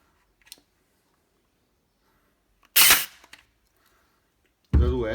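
A Parkside PAT 20-Li cordless staple gun fires a single sharp, loud crack into wood, preceded by a faint click and followed shortly by a voice speaking.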